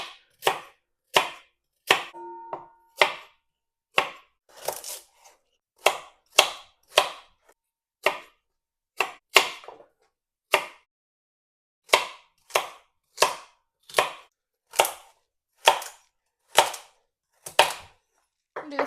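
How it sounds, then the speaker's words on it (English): Knife chopping carrots into chunks on a cutting board, a long series of sharp, evenly spaced thunks, close and clear with no talk. "I'm going to cut the ends and both the ends of the carrots"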